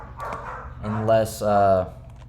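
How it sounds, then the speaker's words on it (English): An excited pet dog barks and yips a few times close by indoors, with short bursts and a longer whining stretch, while a voice carries on underneath. "my dog's going crazy"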